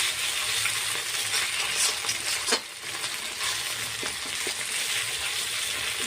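Spice paste made with green chilli paste fries in oil for a duck curry, a close, continuous crackling sizzle with brief stirring clinks partway through and no talk.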